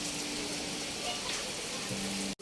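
Steady rain falling at a farm house on a cold day, a dense even hiss filling the whole stretch with a few faint tonal sounds underneath, cutting off abruptly at the very end.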